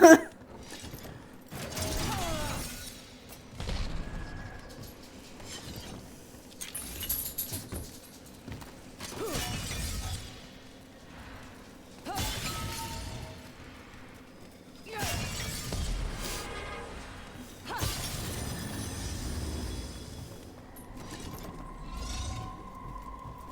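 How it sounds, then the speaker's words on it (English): Sharp crystalline shattering bursts of exploding crystals in the video game Dragon Age: The Veilguard recur every few seconds over a low mechanical rumble and faint creaks, fairly quiet and without talk. "These crystals sometimes explode, and they're not very nice because they hurt pretty badly."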